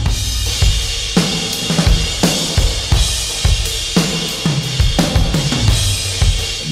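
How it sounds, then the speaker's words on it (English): A drum kit pounds steadily in a big, roomy space, each hit trailing into a wash of heavy reverb that fills the gaps between beats. "Massive reverb going on in there."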